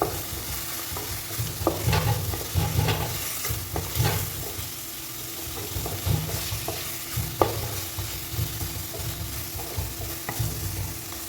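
Steady sizzling of masala-coated chicken frying in oil in a kadai, a constant crackle with intermittent scraping and stirring clinks, close and fairly loud.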